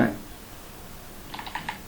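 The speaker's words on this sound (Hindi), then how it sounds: "सपोज मैं हिंदी में कोई चीज़ टाइपिंग कर रहा हूँ" A few quick keystrokes click on a computer keyboard near the end, following a brief voice at the start, with light clacks in a short run.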